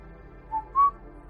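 Two short, clear whistled notes rise in pitch, loud and close, alone in a quiet room, the second note held a little longer like the start of a tune.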